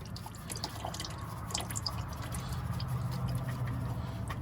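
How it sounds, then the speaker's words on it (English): Motor oil dripping from the drained engine of a 2014-or-later Mitsubishi Mirage with a 1.2 L three-cylinder, irregular small drips and patters over a low steady hum, close and fairly quiet, no talk. "So I'm gonna wait till the oil stops dripping."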